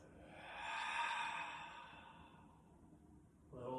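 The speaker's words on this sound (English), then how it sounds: "Exhale out the mouth." A slow, soft breath pushed out through the mouth during a yoga breathing exercise, a close airy exhale that swells and fades over about two seconds, followed by a quieter tail.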